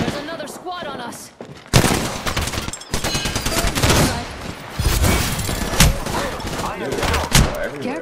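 Apex Legends gunfire rattles in dense, close bursts of rapid shots, broken by brief pauses and repeated volleys, with a player talking over the shooting.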